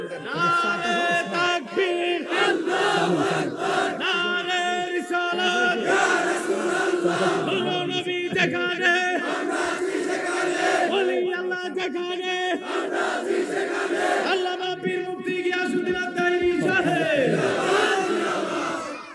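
A large crowd at an Islamic religious gathering chants slogans in unison, loud, sustained rhythmic shouting with repeated phrases rising and falling across the whole stretch.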